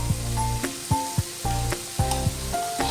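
Grated coconut is stirred into onions frying in a pan for coconut rice: a steady sizzle is broken by rhythmic scraping strokes roughly every half second.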